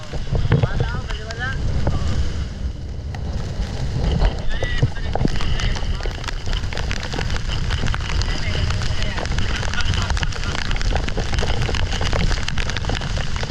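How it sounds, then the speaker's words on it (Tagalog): Heavy rain pours down steadily on an open fishing boat at sea during a spearfishing trip in the Philippines, a dense continuous hiss with wind buffeting the microphone throughout. "Napakalakas ng ulan."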